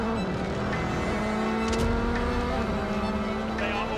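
A Formula One race car roars with a sustained, steady engine note that stays loud throughout, with a faint voice underneath.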